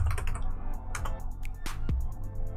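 Someone types a command on a computer keyboard, a fast irregular run of close clicking keystrokes with a few heavier thumps, continuing steadily throughout without talk.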